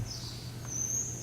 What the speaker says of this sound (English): The bird's intentions are to throw my speech.